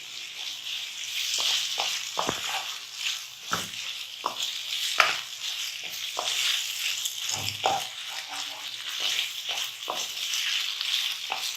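Chicken bharta with a little flour fries in oil in a pan, a steady close sizzle broken by repeated scraping and clacking strokes of a spoon stirring, with no talking.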